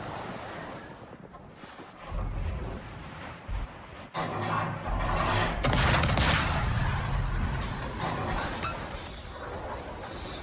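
Ship guns firing at an enemy in World of Warships, heavy booming salvos and rumbling blasts layered over sea wash, loud and dense for most of the stretch.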